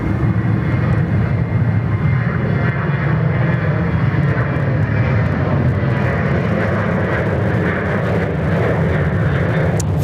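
A jet airliner passing at Sydney Airport, a loud, sustained engine roar with broad rumble and whine that stays steady across the whole stretch, with no talk over it.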